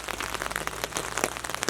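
Steady rain pelts the ground and gear at a campsite during a big thunderstorm at Ricketts Glen State Park, Pennsylvania, with dense patter and scattered louder drops, close and continuous, with no voices.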